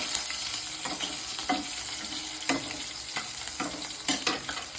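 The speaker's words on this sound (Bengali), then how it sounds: "কাঁচা লঙ্কা কালো জিরেটা ভালো করে ফ্রাই করতে হবে যতক্ষণে লঙ্কাগুলো সুন্দর করে ভাজা ভাজা হয়ে যাচ্ছে।" Green chilies and black cumin fry in a pan with a continuous sizzle, while a spatula scrapes and stirs in regular strokes about every half second, close and fairly loud.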